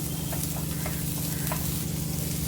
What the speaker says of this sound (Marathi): आता त्याच भांड्यात मी हा कांदा पण भाजून घेते थोडासा